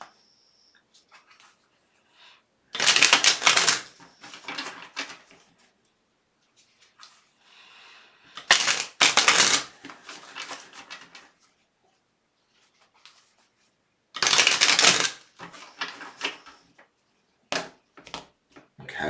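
Tarot clarifier cards shuffled by hand in three separate bursts of quick papery riffling, each lasting a second or two, with quiet pauses between them and a few faint taps near the end.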